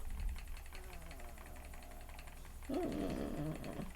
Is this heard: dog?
yes